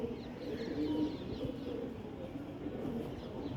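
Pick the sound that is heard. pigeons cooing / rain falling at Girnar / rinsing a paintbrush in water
pigeons cooing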